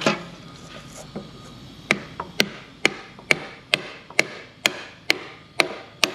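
A hammer taps a seal into place on the injection pump of a Case IH Magnum 7210 tractor with a Cummins 8.3 engine, giving about ten sharp metallic strikes in a steady rhythm after a few lighter taps.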